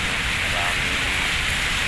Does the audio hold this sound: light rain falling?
yes